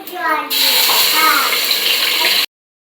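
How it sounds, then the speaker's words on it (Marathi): Marinated mutton dropped into hot oil in a pot: a loud, close, steady hiss of frying that cuts in abruptly, runs for about two seconds and stops dead, with a voice speaking just before it starts. "याच्यामध्ये आपण मिक्स केलेले मटण टाकूया."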